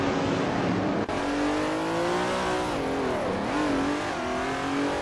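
Race cars from a video game lap the tight 8 km Charade track, their engines droning loud and continuous, the pitch rising and dipping through gear changes and corners.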